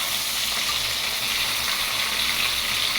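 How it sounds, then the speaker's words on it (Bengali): Fish fries in a hot pan in a home kitchen, giving a steady, loud, close hiss and crackle of oil that holds unbroken for about three seconds, with no voices. "এই ভাজা মাছ দিয়ে ভাত খেতে দারুণ লাগে।"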